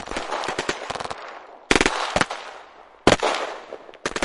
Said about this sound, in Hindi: पाक सेना बॉर्डर तक पहुंचकर फायरिंग शुरू कर दी।